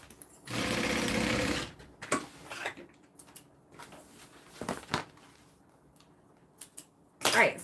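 A sewing machine stitches a side panel in short bursts: one sustained whirring run, then several brief stitching spurts and clicks separated by quiet gaps, close and fairly loud.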